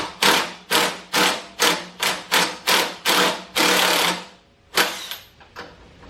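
An impact wrench hammers off a go-kart axle nut in a quick loud series of about nine rattling bursts, then pauses and fires two more short bursts close by.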